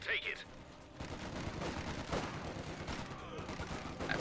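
Machine gun and rifle fire in the video game Company of Heroes 2, bursts of rapid gunfire and shots mixed with battle noise, fairly quiet, under a commentator's talk.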